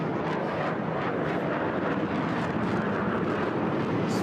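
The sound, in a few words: HAL Tejas fighter jet flying manoeuvre at air show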